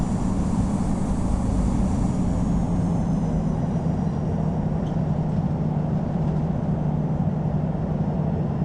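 A Boeing 747-200 airliner taxis at San Diego in the Infinite Flight simulator, giving a steady, loud engine drone with a low hum and broadband roar that holds constant throughout, with no talking.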